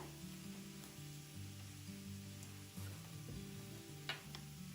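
Spice masala of chili powder, coriander, cumin and garam masala frying in a pan, a quiet steady sizzle with a low hum and occasional light scrapes and clicks of a utensil.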